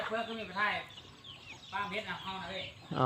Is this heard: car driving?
no